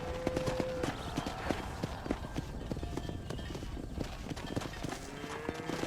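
Steady clip-clop of horse hooves in Red Dead Redemption on Xbox 360, a quick rhythmic run under game sounds, fairly quiet with a brief tone at the start and end.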